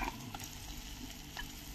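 Coarse ground roasted moringa (drumstick) pods are stirred into garlic frying in butter for a moringa dal, giving a close, steady sizzle with soft scraping stir sounds throughout and no talking.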